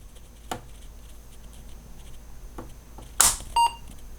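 A ReActiveMicro universal power supply unit gives a short, clear power-on beep right after a sharp switch click, amid faint handling taps and a quiet background hum.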